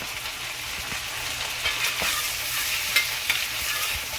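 Crushed ginger, garlic and green chili paste sizzles steadily in a hot pan for a tawa egg masala, with a dense hiss broken by a few stirring scrapes and clicks; no one speaks.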